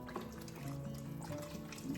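Chicken bouillon is poured into a pot of lentils, a brief, faint liquid splash and trickle heard alone.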